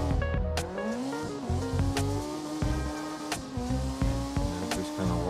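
Simulated car in CarX Drift Racing, brakes applied mid-drift as the tires skid and squeal over a steady engine drone, with sharp transient clicks scattered throughout, loud and continuous.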